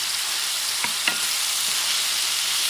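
Shrimp in garlic sauce sizzle in a pan for camarones al ajillo, a steady bright hiss with a couple of faint taps from a utensil.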